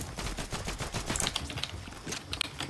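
Rapid gunfire in Fortnite, a dense, steady stream of quick shots with sharp clicks and impacts layered over game noise, moderately loud and continuous throughout.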